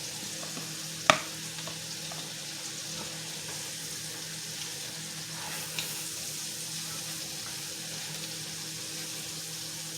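Thick pieces of lamb with garlic fry in a skillet, giving a steady soft sizzle throughout, with one sharp clink early on and a faint knock later, without any talk.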